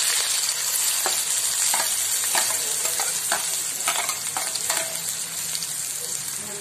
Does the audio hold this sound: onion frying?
yes